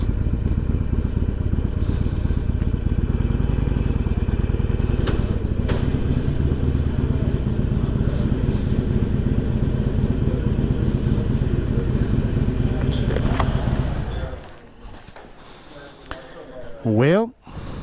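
Harley-Davidson Sportster motorcycle with an engine warning light on, its engine idling with a loud, steady low rumble for about fourteen seconds before it cuts out, followed by quieter handling noises.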